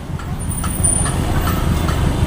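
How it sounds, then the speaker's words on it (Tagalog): Steady road traffic on Guadalupe Road in Cebu, a dense low rumble of cars, trucks and buses idling and creeping close by, with faint higher clatter scattered through and no clear voices. "Grabe ka traffic."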